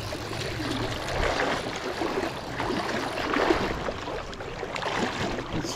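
A cold river flows past in a steady, broadband rush of moving water that stays constant and moderately near throughout, with no talk.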